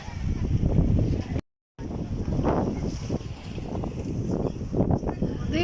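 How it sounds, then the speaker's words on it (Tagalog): Strong wind buffets the microphone at Souq Waqif, the old market in cold, windy weather, a steady loud rumble and roar throughout with one brief dropout, alone with no talk. "Sobrang hangin,"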